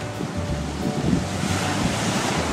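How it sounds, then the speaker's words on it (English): Ocean waves wash onto a sandy beach in a steady, continuous roar, with wind buffeting the microphone throughout; no voices are heard. "Look at the ocean. Look at the waves."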